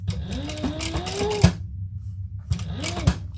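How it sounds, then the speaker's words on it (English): Sewing machine stitching leather for an enlarged ray, running in a steady mechanical burst that stops for about a second, then starts again briefly, loud and close with a low motor hum throughout. "I am going to increase my stitch length, so Gail, remind me."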